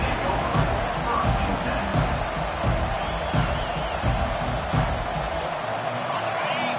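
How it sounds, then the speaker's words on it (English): Football stadium crowd roars loudly and continuously, with cheers and bursts of noise under a broadcast commentator's voice. "This crowd bringing an ear-splitting welcome to their visitors."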